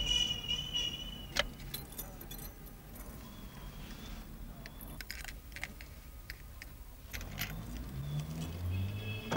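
Keys are set down in a film scene: a metallic jangle and a few sharp clinks ring out over steady background hiss, with no one speaking.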